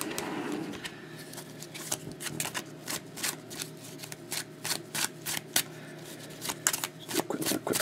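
Trading cards being shuffled by hand in quick bursts of soft riffling and flicking, close and quiet, with short pauses between.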